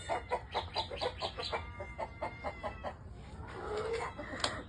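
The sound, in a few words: Rhode Island chickens clucking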